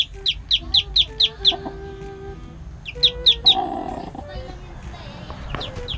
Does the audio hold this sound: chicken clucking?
yes